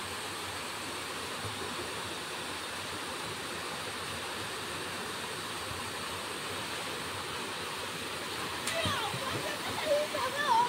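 River water rushes past in a steady, unbroken stream beneath overhanging trees, with louder splashing and churning rising near the end.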